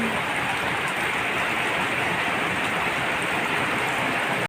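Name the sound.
rain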